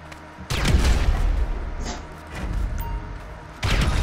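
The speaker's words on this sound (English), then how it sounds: "Grenades." Heavy booming grenade blasts in GTA Online, two loud near explosions framing a rumbling stretch of gunfire and debris, the first blast striking at half a second and another near the end.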